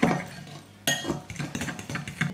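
Keto cookie dough with coconut being mixed in a bowl, a spoon or whisk clinking and scraping against the bowl in a loose, uneven rhythm. The stirring is close and fairly loud, with no talking.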